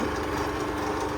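A small electric coconut grater motor drones steadily and loudly throughout, a continuous mechanical whir with no pauses.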